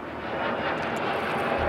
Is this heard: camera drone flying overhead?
yes